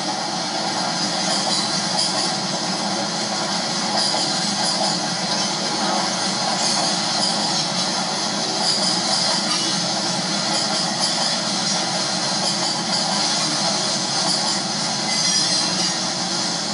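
A Conrail freight train rolls past steadily for the whole stretch, a continuous loud rumble of railcars with wheel squeal and rail noise and no pause in the flow.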